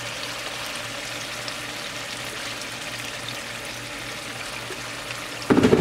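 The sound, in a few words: water being poured into a simmering sauce for pangasius fish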